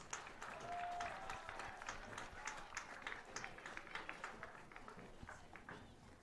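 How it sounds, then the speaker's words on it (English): Crowd applause in the stands at a varsity high school football game honoring the seniors; steady, dense clapping that sounds distant and fairly faint throughout. "Let's give them all one more big round of applause."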